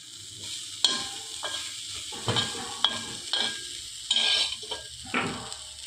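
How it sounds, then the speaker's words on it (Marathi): Sprouted mung beans with mustard seeds frying in a pan, soft sizzling under repeated scrapes and clinks of a spoon against the pan at an uneven rhythm. "आता हे मोहरीचे मूग टाकलेत, ते छान फ्राय करून घेईन"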